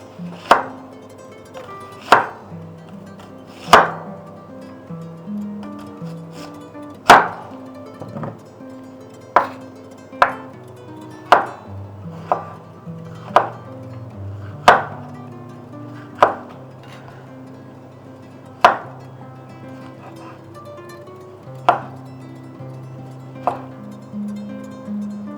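Sharp knife chops vegetables on a board for breakfast, about fifteen distinct cuts at an uneven, unhurried pace with short gaps, close and clear over a low background hum.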